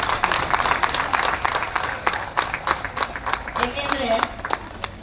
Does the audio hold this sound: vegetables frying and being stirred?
no